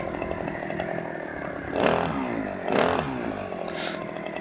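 Brush cutter running on fuel treated with FCR-062 additive, its small two-stroke engine idling and then blipping up in three short revving bursts, close and fairly quiet.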